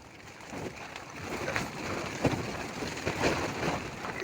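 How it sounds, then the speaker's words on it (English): Nylon tent fabric buffeted by moderate wind, a steady broadband rush with irregular flaps and gusty surges throughout, fairly close and moderately loud. "Can you hear my tent being blown around?"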